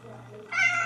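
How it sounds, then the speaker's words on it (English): A house cat meows loudly in a sustained, close call that swells partway through, following a quieter stretch of room tone. "Sorry, that's my cat."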